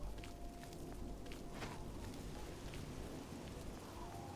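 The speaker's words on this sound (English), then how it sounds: "Oh no, it's raining." Rain falls in the fantasy role-playing game Oblivion as a steady, even hiss, with a few faint scattered taps, continuous and moderately quiet.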